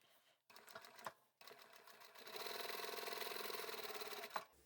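A sewing machine stitches fabric for a small drawstring pouch, running in short bursts and then a steady, close rhythmic whir of stitching that stops near the end.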